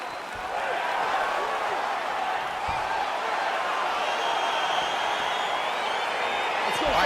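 A steady, loud roar of crowd cheering in the UFC 4 fighting game, a dense wash of voices that holds evenly from start to finish as a fight begins.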